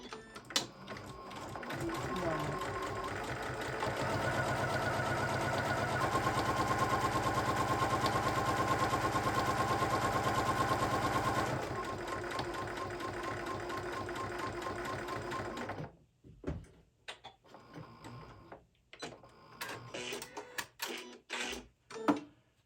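A sewing machine stitches down a fabric pouch seam in a long, steady mechanical run of rapid needle clatter lasting over ten seconds, then stops; scattered handling clicks and rustles follow, with a voice talking at times.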